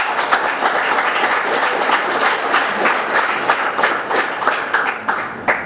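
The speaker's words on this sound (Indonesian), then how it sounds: "Tepuk tangan untuk semua." Loud, continuous applause from a university audience at a semester closing ceremony, many hands clapping densely with a few sharper claps standing out near the end.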